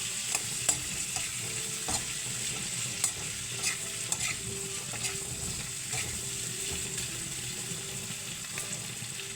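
Chicken feet frying in a pan while being stirred: a steady sizzle sits under repeated scrapes and clinks of a utensil against the pan at an uneven rhythm, with no talking.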